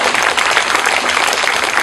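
Crowd applause at an outdoor Double Tenth (National Day) celebration rally in Hong Kong, dense and steady for the full two seconds with no speech over it.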